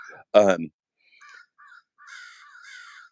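Several crows caw, a few short calls and then a longer run of harsh caws a little way off, after a brief burst of voice at the start.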